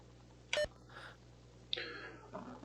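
A faint, brief electronic beep sounds in a trivia video game minigame, followed by quiet breathy noises and soft rustles, with no talking.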